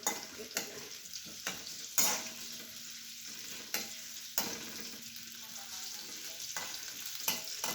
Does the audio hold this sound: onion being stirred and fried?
yes